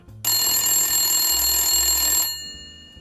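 A telephone bell rings loudly and steadily for about two seconds as a single continuous electronic trill, then cuts off into quiet.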